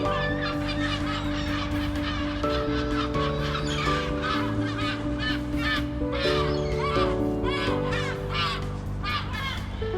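Seagulls at the sea near Houston give repeated harsh, cawing calls in a busy, overlapping chorus over a steady droning background.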